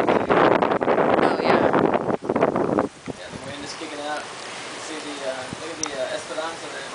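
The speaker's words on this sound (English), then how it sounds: "The wind is picking up." Strong gusts buffet the microphone outdoors beside a lake with choppy water, loud blustery rumbling at first, then easing to softer rustling wind; a voice is heard briefly in the middle.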